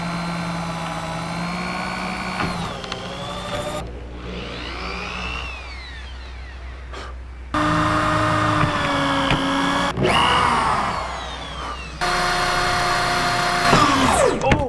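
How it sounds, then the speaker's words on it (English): Power drill boring through the aluminum hull of a jon boat, whining in several bursts that rise and fall in pitch as the bit bites and stalls, with short pauses between, loud and close. "We went through the aluminum."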